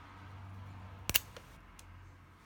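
Scissors snipping through a small bundle of ostrich fibers, one or two sharp close clicks in a quiet room, followed by a fainter click.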